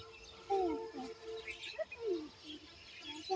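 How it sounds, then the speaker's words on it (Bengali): Several birds chirp and call at a dairy farm, short bright tweets and sliding whistles scattered over a quiet, faint background with distant murmurs. "দেখো কত কত পাখি।"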